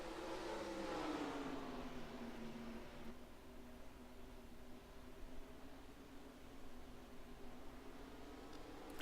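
Race trucks circle the Eldora dirt track in the NR2003 racing game, engines droning in a faint, steady whine with a louder passing surge early on, then a continuous distant hum.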